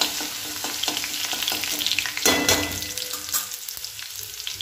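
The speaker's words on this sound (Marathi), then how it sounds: "लसूण थोडासा मिक्स करून घेऊया।" Crushed garlic fries and sizzles in a pan while a spoon stirs it, with steady crackling and scraping and a louder burst of sizzle partway through.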